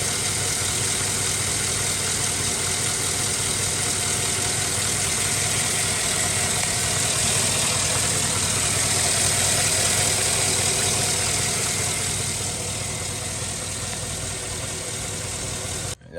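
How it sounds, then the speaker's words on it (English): A Chevrolet Suburban engine idles steadily and evenly for the whole stretch, a close, continuous hum with no talking. "Engine runs amazing"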